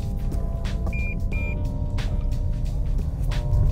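A Toyota Yaris G Limited parking sensor gives two short, clear electronic beeps close by, over a steady low engine and road rumble inside the car.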